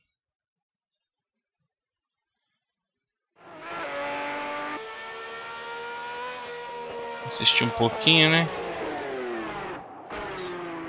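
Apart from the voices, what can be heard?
car engine in video game Project Cars 2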